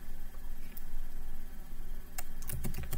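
Keystrokes on a computer keyboard as Cisco configuration commands are entered, a few scattered taps early then a quick burst of typing near the end, close and fairly quiet over a steady background hum.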